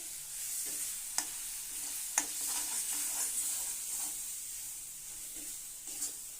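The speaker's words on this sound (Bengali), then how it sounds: "আর এখানে মাছের তেল ভাজা করব, তার জন্য মশলা কষাচ্ছি।" A quiet, steady sizzle of spices cooking in a pan for fish, with a few sharp utensil knocks scattered through the hiss.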